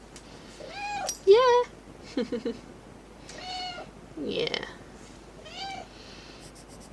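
Several cats meow repeatedly indoors, rising and falling cries close to the listener, with a person speaking briefly between them.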